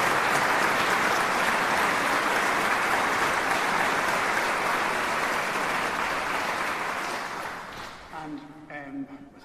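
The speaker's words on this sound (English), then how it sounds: "we who have got seats might give a little round of applause to those who didn't get" Congregation at a funeral service applauding, a dense sustained round of clapping that holds loud for several seconds, then fades out as a voice begins speaking.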